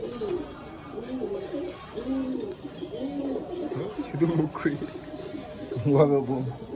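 Pigeons housed together coo in a run of rhythmic, low bubbling calls near at hand, with someone speaking over and between the calls.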